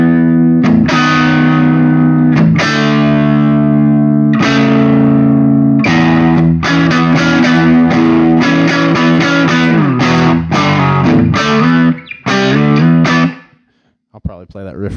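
Distorted electric guitar, a Gibson Trad Pro V with mahogany top and Custombucker pickups, loud and close, strummed chords then quicker riffing notes, cutting off near the end.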